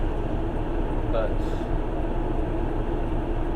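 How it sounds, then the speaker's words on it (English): Loud, steady low rumble and roar of a train engine heard from inside a carriage, continuous and droning throughout, with a brief spoken word over it. "I don't know how well this is going to be recording on the train. The engine noise is loud"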